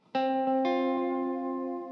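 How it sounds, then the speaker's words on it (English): Spring reverb from a Recovery Effects guitar pedal on a Danelectro double-neck guitar: a few plucked chords ring out and wash into a long, sustained, slightly metallic tail, loud and clear with no voices. "you can just use the reverb"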